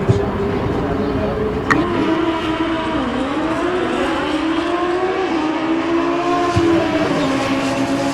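Motorcycles including a 2013 Kawasaki ZX14 and a Honda CB750 launch at a drag strip, a loud sustained engine drone that rises and falls in pitch over continuous track noise, with announcer talk above it.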